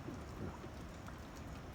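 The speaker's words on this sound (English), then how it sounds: "it's supposed to be raining all day, so it's going to be an all-day event" Steady rain from the remnant of Hurricane Helene falls over Southern Illinois, a faint, continuous hiss of drops with no talking.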